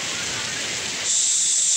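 Heavy, continuous rain pours during a prolonged downpour over a flooded area, a dense steady hiss that holds throughout and brightens slightly toward the end, close and unbroken, with no talking.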